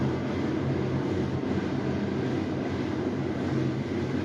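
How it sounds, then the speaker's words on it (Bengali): A train passing nearby, a heavy continuous low rumble with steady rolling noise at a constant level, no talk over it. "আমাদের পাশে কিন্তু ট্রেন যাচ্ছে"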